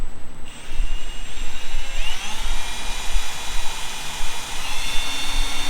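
A power drill whines steadily with rising and falling pitch as it bores and taps a hole in a Subaru part, close and loud, running continuously without any talk.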